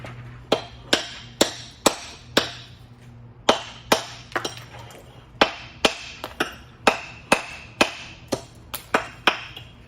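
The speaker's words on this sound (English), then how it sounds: "Take my thin veneer hammer." A thin-veneer hammer chips at natural thin stone veneer, about twenty sharp, crisp clacks in an uneven rhythm, each one close and ringing briefly.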